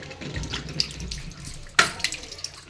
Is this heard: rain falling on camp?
no